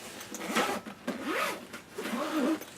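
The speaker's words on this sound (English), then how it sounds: "So you come to the back and you zip it open" A zipper on a metal tablet case is drawn open around the back in three smooth, rising zips, close and clear with short pauses between pulls.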